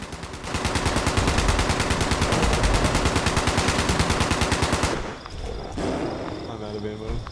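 Automatic gunfire rattles in the video game Fallout 76, a loud, steady rapid burst lasting several seconds that cuts off sharply and gives way to quieter game ambience.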